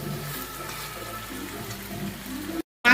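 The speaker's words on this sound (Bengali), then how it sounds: "এবারে জল দিয়ে দেবো।" Water pours into a pot of browned chicken and potato curry, a close, steady splashing rush for about two and a half seconds before cutting off abruptly.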